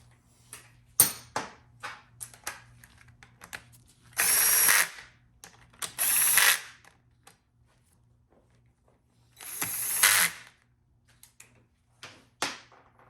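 Power tool driving Torx 27 bolts during final assembly of a GM 4L60E transmission rebuild: three loud bursts of a few seconds each, separated by quieter ratcheting clicks and small metallic taps.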